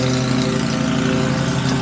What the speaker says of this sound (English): this is gonna suck for audio if we got a loud ass lawnmower over there